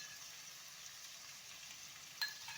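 Crushed ginger and garlic frying in hot mustard oil in a kadai for a dhaba-style chicken curry, giving a steady, soft sizzle with one brief clink near the end.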